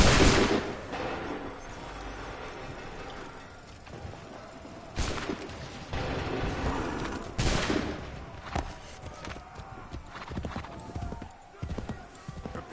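Musket volleys ring out in Assassin's Creed 3, sharp broadband cracks near 5 and 7.5 seconds with scattered smaller shots between, mixed with hoofbeats and battlefield commotion as voices call out.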